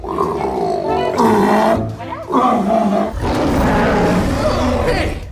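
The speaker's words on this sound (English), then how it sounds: "decided to update the voice using sounds of different animals. For example, a seal." A deep, guttural creature roar built from seal sounds rises and falls in long, loud growling bursts with a throaty, animal-like rasp.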